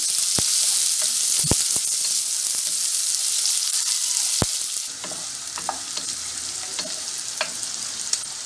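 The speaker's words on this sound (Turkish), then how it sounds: "Evet arkadaşlar soğanımız da biberimiz de kavruldu." Onions and village peppers sauté in a pan for a chicken orzo pilaf, a dense continuous sizzle with occasional sharp clicks of a spoon against the pan, softening slightly partway through.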